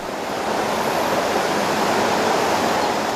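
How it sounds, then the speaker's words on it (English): Waters of the River Dee flowing below Balmoral in the Scottish countryside, a steady broadband rush that stays constant and close, with no voices over it. "The only sound, the waters of the River Dee below."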